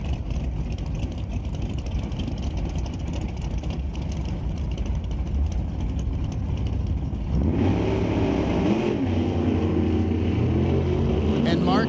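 At NHRA Canadian SPORTSnationals eliminations, a drag racing car such as a 1969 Camaro Roadster sits under a roaring crowd and track noise, then launches with a rising, rasping engine howl, while an announcer talks over it.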